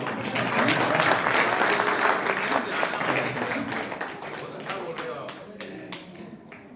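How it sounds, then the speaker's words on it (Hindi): Audience applause at a Haryanvi literary poetry gathering, a dense wash of many hands clapping that starts loud and slowly thins and fades toward the end, with some voices mixed in. "ताली तो बजा दो"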